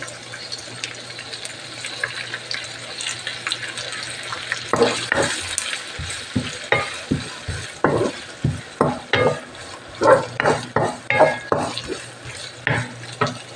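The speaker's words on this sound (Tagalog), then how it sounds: "Tapos, i-mix natin itong scallop." Dried scallops are stirred as they fry in a pan for quiampong, a Chinese-style rice dish. A soft sizzle runs under rhythmic scraping strokes that grow louder and more regular partway through.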